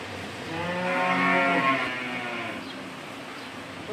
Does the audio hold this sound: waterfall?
no